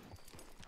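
A few faint hoofbeats from a horse in the video game Red Dead Redemption, soft clip-clop steps in a brief, quiet burst.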